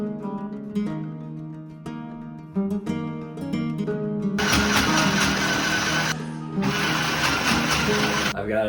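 Sewing machine stitching a fabric golf headcover, two loud continuous motor runs with a brief pause between them, after several seconds of a voice speaking up front.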